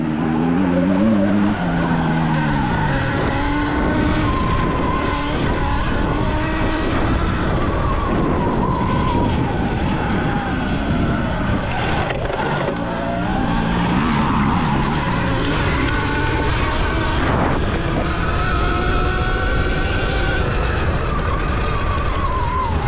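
A Surron Light Bee X electric dirt bike in sport mode tears around a dirt turn track, making a loud, continuous close-up motor whine with repeated tire skids and scrabbling.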